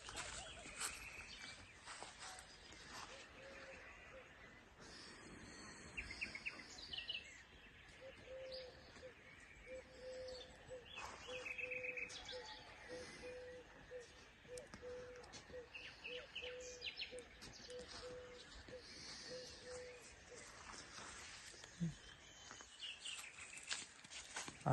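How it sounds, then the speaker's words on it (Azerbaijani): Small birds chirp and tweet at a distance in a quiet fruit orchard, with soft dove-like cooing mixed in over a faint, calm background. "Quşların səsini eşitir."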